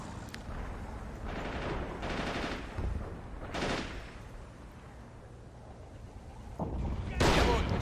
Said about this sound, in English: we'll have our AT gun fire there